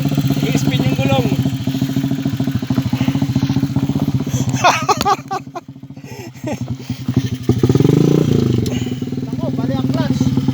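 A motorcycle with a broken clutch spins its rear wheel on slippery ground: the engine revs loudly and steadily, dips briefly, then surges again, up close.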